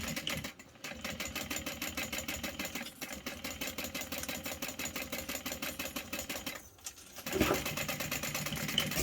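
A sewing machine runs top stitching on a Denver backpack handle at about a 4.5 stitch length, a rapid even mechanical chatter in several bursts with brief pauses, close and clear.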